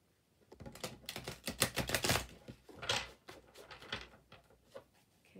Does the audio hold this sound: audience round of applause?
no